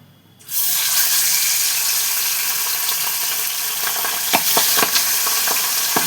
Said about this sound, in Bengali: আমি আমার মাছ ভাজাটা শুরু করি তেলও গরম হয়ে গেছে